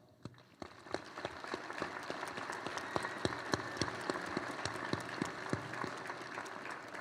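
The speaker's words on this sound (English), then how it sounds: "Let's give everybody, especially a big round of applause." Audience applause at a high school graduation ceremony in Hoquiam, a moderate crowd clapping with distinct individual claps standing out, steady and somewhat distant.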